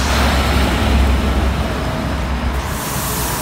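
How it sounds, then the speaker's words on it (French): City traffic in Panama City makes a loud, continuous roadway roar with low engine rumble and passing vehicles, close by and heard alone. "il y a un peu trop de trafic, il y a un peu trop de bruit"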